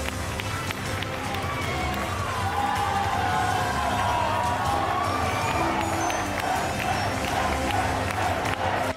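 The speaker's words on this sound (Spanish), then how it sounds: "Fuerte el aplauso." A TV news studio crowd celebrating in Argentina keeps up loud, constant applause and cheering. Shouts and voices run through a dense roar that holds steady throughout.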